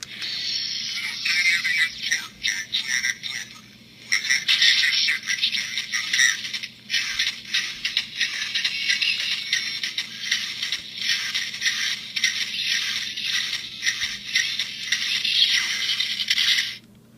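Harsh electronic sound effects from an ED-209 robot toy, a buzzing, crackling whir with stuttering pulses, played close and continuous for many seconds.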